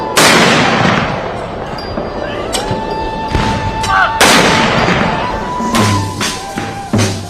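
Booming artillery reports from a 17-gun salute at a military state funeral for India's first Chief of Defence Staff ring out loud and reverberant, two big blasts with rolling echoes and crowd noise between.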